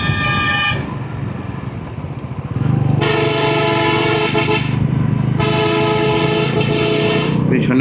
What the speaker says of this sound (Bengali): শুধু হর্ন মারছে।